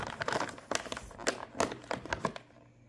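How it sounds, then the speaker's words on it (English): Resealable snack chip bag being opened, a quick series of crinkly plastic rustles and crackles up close, ending in quiet. "So let's just open it. It's a resealable bag"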